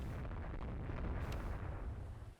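Muffled, rumbling naval gunfire at a destroyer in the video game Rule the Waves 2, a low sustained boom with a faint crack partway through, heard fairly quietly.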